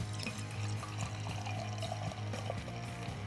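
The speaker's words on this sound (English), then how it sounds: "Go for the pour now." Old stock ale beer poured into a glass, a steady continuous liquid rush and gurgle lasting a few seconds, close and fairly loud with no talk.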